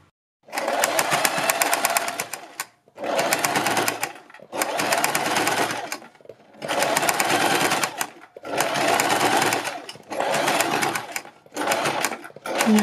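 Domestic sewing machine stitching down a fabric strip, running in six or seven steady bursts of about two seconds each with short pauses between, close and loud with a fast rhythmic whir.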